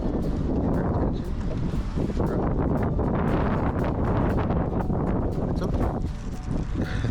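Strong gusty wind buffets the microphone outdoors during dog training, a loud, continuous rumble with brief lulls, as a person speaks briefly.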